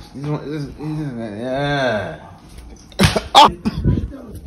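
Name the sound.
sneeze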